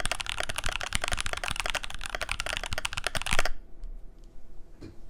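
Fast typing on a MIKIT DK65 mechanical keyboard, a dense run of crisp clacking keystrokes for about three and a half seconds before stopping, followed by a few faint scattered clicks.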